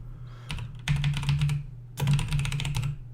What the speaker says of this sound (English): I just want to start typing down some ideas.